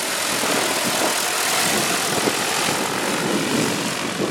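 An agricultural spraying drone flies low over a field of winter canola, its propellers producing a loud, steady buzzing roar that holds constant throughout.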